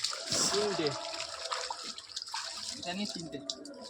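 Chicken rinsed under running water, with a steady splashing flow of tap water and occasional handling noises close by, while people talk over it.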